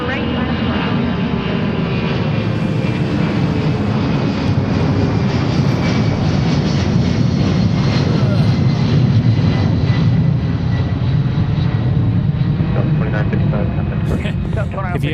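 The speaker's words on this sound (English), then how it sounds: "runway 34 right, clear for takeoff" An aircraft takes off from runway 34 Right at Seattle, its engines making a loud, steady roar that fills the whole stretch and swells toward the middle with no break.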